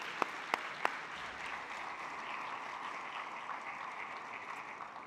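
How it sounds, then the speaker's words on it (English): Soft, distant applause at a school breakfast honouring board members, opening with a few sharp claps and then settling into a steady, quiet patter in a large room. "So please give a round of applause to our board members,"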